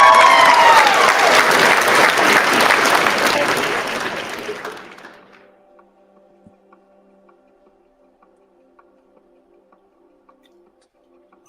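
Loud burst of hand claps and applause from a crowd fills the first few seconds, then fades out around the fifth second, leaving near silence with faint ticking.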